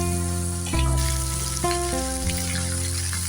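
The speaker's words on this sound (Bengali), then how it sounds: "আর দিয়ে দেবো কেটে রাখা আলুগুলো আমি এর মধ্যে দিয়ে দেবো।" Cut potatoes drop into hot oil in a wok with dried red chilli, and a loud burst of frying erupts. A continuous crackling sizzle follows, with a few clinks of a utensil and no talking.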